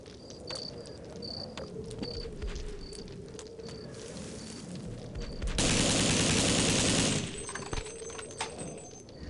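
Gunfire from the video game They Hunger sounds as a rapid, rattling burst that swells loud for a couple of seconds amid a background of chirping, cricket-like ambience and scattered clicks.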